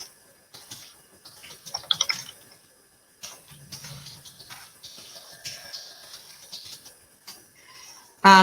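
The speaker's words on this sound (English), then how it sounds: "type in the booking name and a description as well" Keys tapped on a computer keyboard while a booking name and description are entered in scheduling software, coming in quiet, irregular bursts with pauses between them and a sharp click at the very end.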